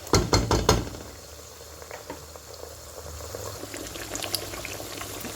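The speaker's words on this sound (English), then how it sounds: "Still need to stir this for some time." A spoon knocks and scrapes in a pot of tomato stew, starting with a quick run of clattering strokes, then settling into a soft, steady bubbling simmer with occasional light taps.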